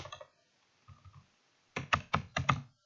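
Fingers tap on a computer keyboard while renaming an SQL file, first a short burst of keystrokes, then a few soft taps, then a louder run of distinct clacks, close and with no talk.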